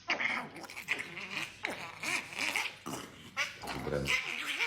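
A small dog growls and snarls in repeated uneven bursts, fairly close and moderately loud, while a person talks over it.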